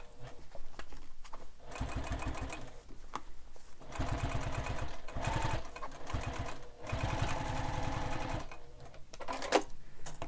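Sewing machine stitching fabric pieces for a sling pack, close and alone, running in several bursts of rapid mechanical chatter separated by short pauses.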